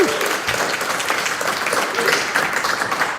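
A studio or stage audience bursts into dense, steady applause that fills the space throughout, with a possible brief voice near the start under the clapping.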